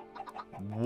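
A few quick, faint chicken clucks in the Minecraft video game, a brief burst of short bird sounds followed by a rising drawn-out tone.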